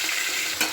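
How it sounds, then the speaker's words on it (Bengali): Pieces of rui fish frying together in smoking-hot oil in a pan, a steady dense sizzle filling the short moment, close and fairly loud with a brief swell near the end. "এবার আমি একে একে মাছগুলো ভেজে নিচ্ছি।"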